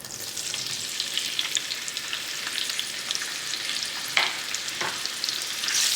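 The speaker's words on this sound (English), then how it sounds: "I'm going to throw in our sausage now" Pre-cooked chopped sausage frying in a skillet, sizzling steadily with light stirring and a couple of sharper scrapes near the end.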